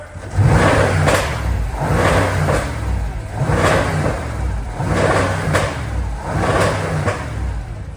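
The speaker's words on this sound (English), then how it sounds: "Let's see how much different it actually sounds. James, give it a rev." A Lexus car engine with a modified exhaust revs repeatedly, rising and falling in about five loud, throaty surges with a rumbling, crackling exhaust, close by and without talking.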